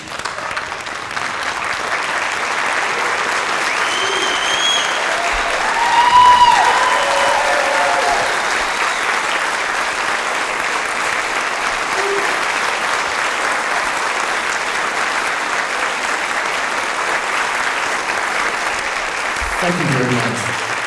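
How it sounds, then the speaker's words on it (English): A standing ovation for Mr. Harris at a 2015 dedication ceremony: steady, dense applause from a large audience filling the hall for about twenty seconds, with a few faint whistles or calls rising above the clapping. "give Mr. Harris the standing ovation that he so rightly deserves for a great performance"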